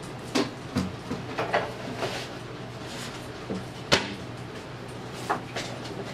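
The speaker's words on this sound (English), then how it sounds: "Now we're going to put the breads, the rolls that we have made, into the proofing oven and shut the door." A proofing oven door is shut after trays of bread rolls go inside, giving a few soft knocks and bumps and then one sharp latch click, with no talk.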